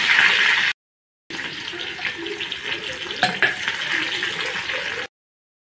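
Chopped onion hitting hot oil with mustard seeds in a kadhai, a loud, close, continuous sizzle that cuts out briefly and then returns, with no voices.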